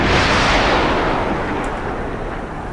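A modded weapon fires in a video game, one loud, heavy booming blast that fills the whole clip and slowly fades as it rolls off.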